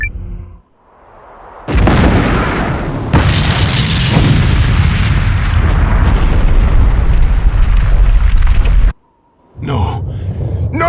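A huge explosion in the video game Eiyuden Chronicle Hundred Heroes erupts in a loud booming blast that rumbles on for several seconds, followed by a brief silence and then more crashing impacts.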